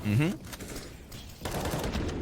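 A quick burst of gunshots fired through a wall in Counter-Strike: Global Offensive on the Overpass map, a few sharp cracks heard at moderate distance under a caster's voice during a professional esports match.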